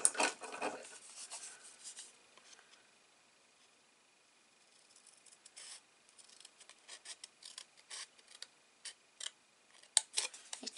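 Scissors trimming paper card for a gate fold shutter card: close, quiet snipping and rasping cuts in irregular bursts, with a brief louder rustle at the start.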